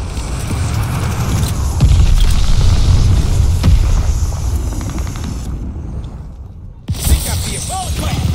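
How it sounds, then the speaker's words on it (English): A glide bomb explosion in the shooter game Call of Duty Vanguard, during a 10 versus 10 Hardpoint match on the Numa Numa map, rolls out as a loud, sustained rumbling roar amid battle noise, then a sharp blast after a brief hush. "Enemy glide bomb coming in hot"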